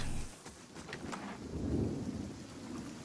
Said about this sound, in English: They conjured a rain blight.